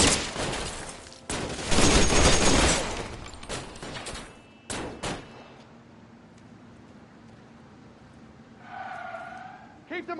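A loud burst of rapid gunfire from an L.A. Noire shootout is followed by a few separate sharp shots. Voices shout over the shots, and the firing fades into a quieter stretch of engine noise.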